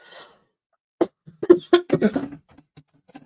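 A short burst of harsh coughs, several in quick succession, fairly close and loud, after a brief quiet gap.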